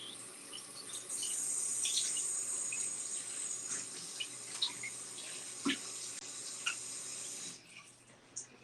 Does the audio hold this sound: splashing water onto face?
yes